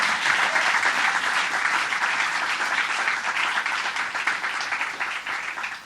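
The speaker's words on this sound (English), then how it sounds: "let's give him a round of applause on his birthday" Full, sustained applause from a crowd at the Empire State Excellence in Teaching Award ceremony, a dense even roar of clapping hands that holds for about six seconds before tapering slightly at the end.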